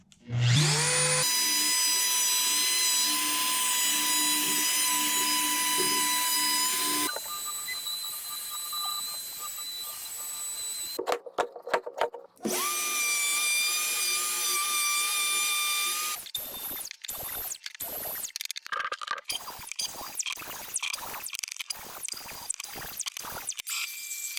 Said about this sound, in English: I'm going to run a chamfer bit on each edge of these and give it a tapered edge.